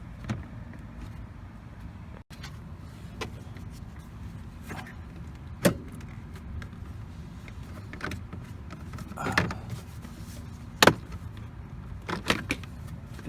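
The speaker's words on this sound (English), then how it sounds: "Just get underneath there and then pry it out." Plastic door sill trim clips on a Honda Accord are pried loose, giving scattered sharp clicks and snaps over low handling noise, close by.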